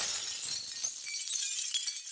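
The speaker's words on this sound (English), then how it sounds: "The robot was leaning on the glass, and it shattered." Cartoon sound effect of a glass window shattering, a bright sustained crash and tinkle of breaking glass lasting about two seconds, loud and close with no speech.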